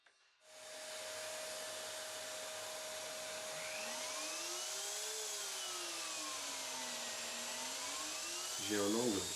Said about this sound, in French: Je vais maintenant faire un trait à la défonceuse.